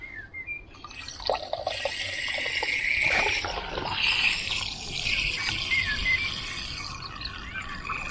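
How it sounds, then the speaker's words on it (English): Water pours into a snow foam bottle being filled to the 250 ml mark, a close, uneven trickling and splashing with dripping sounds, alone without talk. "fill it up with water to the 250 ml."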